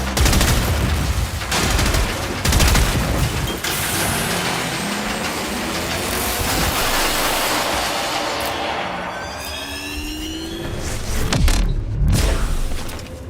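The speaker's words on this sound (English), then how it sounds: "Open fire." Railjack ship guns firing during a space battle in Warframe, a dense rattling barrage with booming impacts and mechanical clatter, loud and continuous across the whole stretch.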